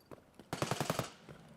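A short burst of rapid video game gunfire, about five evenly spaced shots in quick succession following a few faint clicks, moderately close, with no talking.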